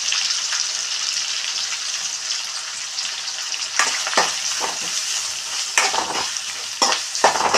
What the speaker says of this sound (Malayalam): എല്ലാം കൂടി ഫ്രൈ ആവട്ടെ നന്നായിട്ട്.